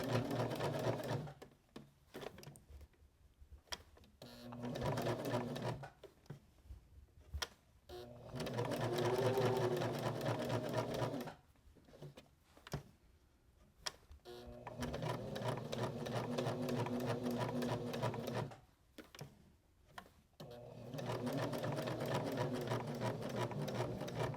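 A sewing machine stitches a small fabric car freshener in bursts of rapid, close mechanical whirring, stopping and starting several times with brief quiet pauses between runs.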